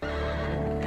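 A horse's neigh in a science-fiction space-western series plays loud and close for just under a second, a dense whinny over layered background sound with no talk.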